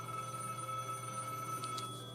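A mobile phone rings faintly in a sewing room, its steady electronic tone repeating softly in the background with no one speaking.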